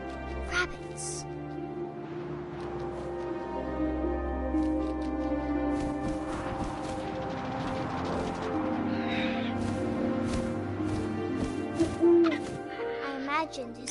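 An owl hooting in the video game What Remains of Edith Finch, low hoots and a duck-like call mixed with wind and a game music bed, with speech also present.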